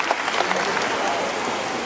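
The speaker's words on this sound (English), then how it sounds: "How about a loud round of applause for her?" Brief, dense audience applause at a parrot show in a bird park, a steady burst of clapping lasting under two seconds.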